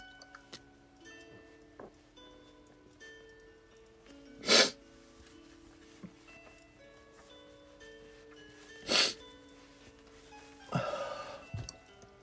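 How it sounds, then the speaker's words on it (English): A person with allergies sneezes hard twice, two sharp isolated bursts a few seconds apart over a quiet room with faint tones, followed by a softer snort or sniff near the end. "I sneezed so hard it hurts."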